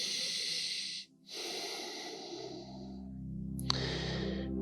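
Close, loud breaths during a yoga exercise: a long airy exhale, a brief pause, then another long breath fading out, with a low hum underneath toward the end.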